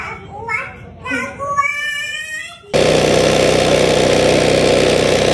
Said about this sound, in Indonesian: Memang motor agak paksa ya namanya mendaki.